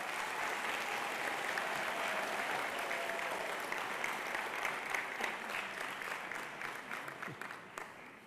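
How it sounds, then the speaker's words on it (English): A graduation crowd at Columbus North International High School applauds the school staff, a sustained, thick sheet of clapping over eight seconds that thins slightly near the end, with a few sharper claps standing out. "Please give our staff behind me a round of applause."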